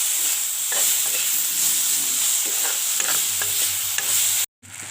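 Ridge gourd frying in a pan with cumin and coriander, a continuous soft sizzle and hiss with occasional light stirring scrapes, steady throughout before a brief drop near the end.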